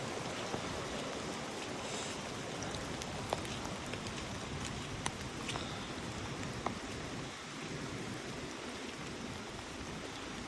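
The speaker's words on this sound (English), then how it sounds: "Creek coming down from the top of the ridge, flowing into the main river or creek over here." Rain-swollen creek running down from a ridgetop into a larger river on a wet day, a steady broadband rush of flowing water with rain patter and a few faint sharp ticks, close and continuous with no voices.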